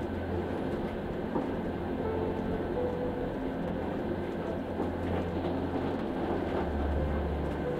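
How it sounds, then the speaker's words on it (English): Steady, continuous rumble of train wheels rolling over the tracks inside a moving train, with a low engine hum and a faint rhythmic clatter throughout. "the hum of the engine and the rhythmic sound of the wheels running over the tracks"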